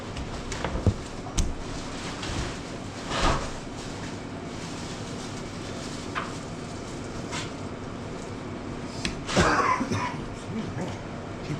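Several short coughs and throat-clearing bursts spread irregularly over steady background noise, with one louder rough cough near the end.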